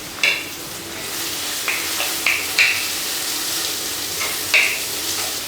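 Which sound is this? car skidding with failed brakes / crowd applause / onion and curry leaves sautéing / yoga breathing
onion and curry leaves sautéing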